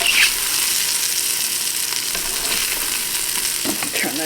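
Sausage meat browning in a soup pot, a steady loud sizzle with occasional stirring scrapes and crackles, close and continuous.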